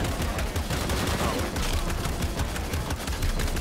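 Gunfire in Shadow of the Tomb Raider, a dense continuous barrage of rapid shots and noisy blasts filling the whole moment at steady loudness.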